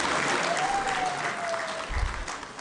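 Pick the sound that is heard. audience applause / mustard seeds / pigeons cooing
audience applause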